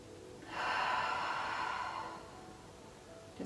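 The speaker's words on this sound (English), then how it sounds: "So just take a couple deep breaths." A single deep breath is drawn in audibly and then eased out during a restorative yin yoga practice, close to the microphone and calm, with no talking.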